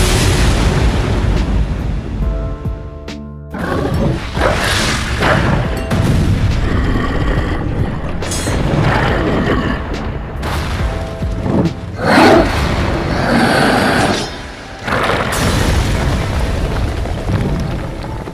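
Booming explosions from the Reaper Chains ultimate attack in a fantasy monster fight, a string of loud heavy blasts and roaring bursts with deep rumble between them, continuous and dense throughout.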